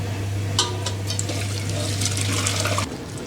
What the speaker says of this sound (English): the best way to strain fish stock is to have this steamer saucepan. And just pour it all through that.